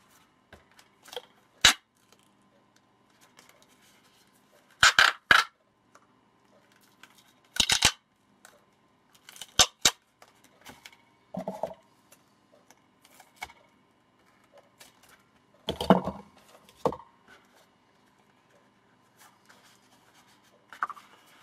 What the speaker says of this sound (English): I'm just going to run round with the tape